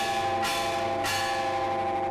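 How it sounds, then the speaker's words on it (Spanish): Bells of a historic colonial church in Metapán, Santa Ana ring out with two clear strikes and a long, humming metallic resonance that carries on without a break. "Por más de 2 siglos, las campanas han repicado."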